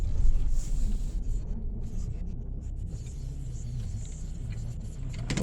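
Steady low road rumble and engine drone of a car heard from inside the cabin while driving on a highway near an 18-wheeler, continuous and fairly loud with no talk.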